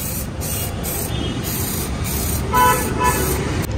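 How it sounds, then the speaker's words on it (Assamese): A can of high-temperature black spray paint hisses in several short bursts, close and loud, with brief pauses between each spray. "জাষ্ট এটা স্প্ৰে কৰিলে কালাৰ আহিয়ে গৈছে"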